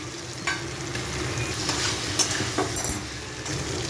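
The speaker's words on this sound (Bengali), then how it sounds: "চিংড়ির মশলা তেল ছেড়ে গেছে, এবারে আলুটা দিলাম" Potatoes frying with prawns in a spice masala, giving a dense, steady close sizzle with a few sharp stirring scrapes and clicks of a spatula against the pan.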